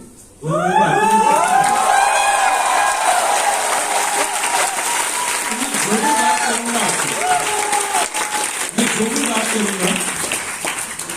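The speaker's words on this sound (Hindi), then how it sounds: "ये ताली आपको दिल से बजानी चाहिए आपके क्लाइंट्स के लिए" An audience at a company speech event breaks into loud, sustained applause that lasts about ten seconds, with voices calling out and cheering over the clapping.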